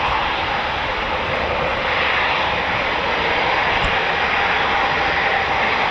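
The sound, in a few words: Eurofighter Typhoon FGR4 jet engine startup at RAF Coningsby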